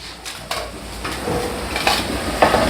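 Vegetables for street-food pav bhaji are added to a hot pan and stirred, giving soft sizzling with repeated scraping and clinking of a spoon against the metal pan, close and moderately loud.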